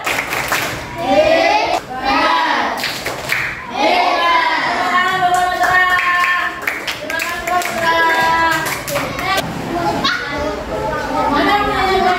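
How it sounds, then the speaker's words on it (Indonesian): A classroom of children claps for a group in a lively burst, mixed with kids' chatter and a teacher's voice speaking over the clapping throughout. "Oke, tepuk tangan buat kelompok cerah."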